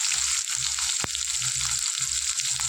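Whole spices (five-spice phoron) frying in hot oil for a shrimp curry, a steady close hiss of sizzling with a brief sharp crackle partway through.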